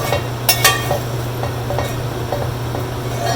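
Dried turkey berries and sundakkai frying in a pan, a steady low sizzle with a few sharp clinks of a utensil against the pan near the start and scattered soft crackles.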